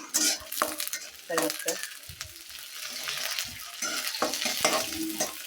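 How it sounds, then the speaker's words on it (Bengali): Chopped onion and green chillies sizzle loudly in a pan while a spatula repeatedly scrapes and stirs them, with a brief spoken word partway through. "তো এই তো ভাজা ভাজা হয়ে গেছে প্রায়"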